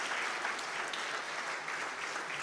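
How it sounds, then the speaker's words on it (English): Applause from a church audience for the children who volunteered, a steady dense patter of many hands that holds even and fairly loud for a couple of seconds. "Everybody give them a round of applause."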